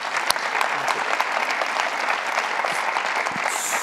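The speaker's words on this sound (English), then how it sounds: "can we give these guys a round of applause?" A conference audience at a panel on global market growth gives a round of applause, a dense, steady wash of clapping that stays fairly loud for several seconds with no speech over it.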